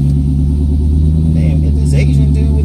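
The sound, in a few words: loud car passing by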